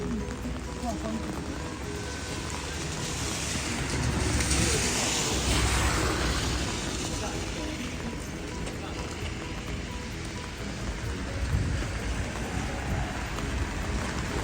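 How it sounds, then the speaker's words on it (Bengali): Rain falls outdoors at midday as a steady, moderately loud hiss that holds evenly for the whole stretch, with a slight swell partway through. "আজকে দুপুরে বাইরে বৃষ্টি পড়তেছে"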